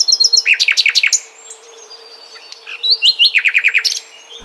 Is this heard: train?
no